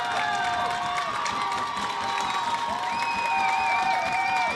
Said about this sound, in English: The Miners crowd comes to life.